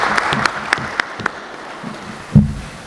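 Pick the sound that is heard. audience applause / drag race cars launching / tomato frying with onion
audience applause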